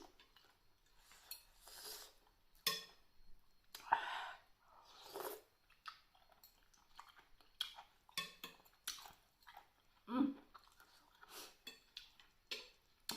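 Close, crisp crunching bites of crunchy mushrooms repeating irregularly, with soft mouth sounds and quiet pauses between chews.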